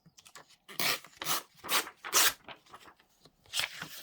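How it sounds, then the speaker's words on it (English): A paper page is torn out of a planner in several rough, rasping rips, close and crisp, with short pauses between tears. "Let's just rip and not worry too much about it."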